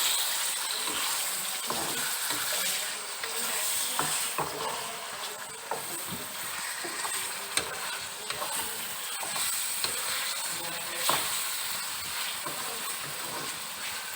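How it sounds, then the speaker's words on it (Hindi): Ginger garlic paste frying in a pan for a chicken and black-eyed bean dish, giving a continuous close sizzle and hiss with frequent small stirring clicks and scrapes throughout. "अदरक लहसुन का पेस्ट डालेंगे। और इसे 5 मिनट फ्राई करेंगे।"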